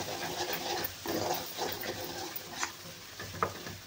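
Spices with chili powder and turmeric sauté in a pan for aloo matar, a close crackle broken by short scraping stirs in an uneven rhythm, with no talking.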